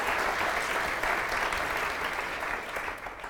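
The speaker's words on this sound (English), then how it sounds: "So let's have a round of applause for all our panelists." An audience applauds panelists at a sleep science event, a dense even wash of clapping that stays strong and fades slightly at the end.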